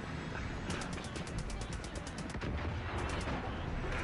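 A gas-filled object explodes in the video game Far Cry 5, followed by a dense run of sharp, gunfire-like cracks and bursts that continue loudly throughout, with voices talking over the action.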